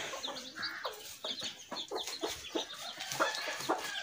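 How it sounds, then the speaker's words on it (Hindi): A pet hen clucks continuously at close range, a busy run of chattering, overlapping clucks and squawks with other chickens around it in a farmyard setting. "मेरी मादी बड़ी प्यारी मादी है जी"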